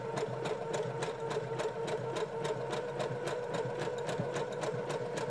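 A sewing machine runs steadily up close, its needle tapping in a quick even rhythm as it stitches a zigzag along a fabric edge to stop fraying.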